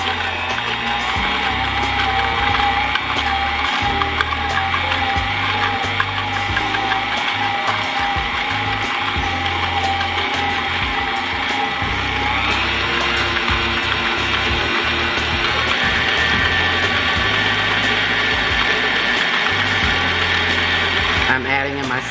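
An electric mixer churns cups of sugar into cream cheese pound cake batter with a constant whirring motor drone, close and steady throughout.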